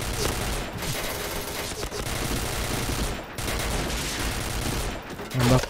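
Continuous automatic gunfire from a P90-style weapon in the shooter Point Blank, fired while the player jumps, loud and sustained with brief pauses and a thump near the end.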